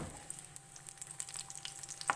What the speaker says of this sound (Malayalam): 1/2 ടേബിൾ സ്പൂൺ എണ്ണ ഒഴിച്ചിട്ട് കുറച്ച് ഉള്ളി കാച്ചി ഒഴിക്കാം കേട്ടോ